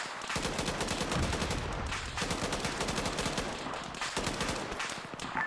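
Machine gun cover fire in Arma 3: sustained automatic bursts, loud and close, in three long strings separated by brief pauses.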